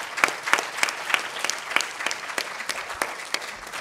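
Applause from an audience at a workforce event on women in leadership, a scattered clapping of distinct claps with loud individual hands in front, fading slightly toward the end.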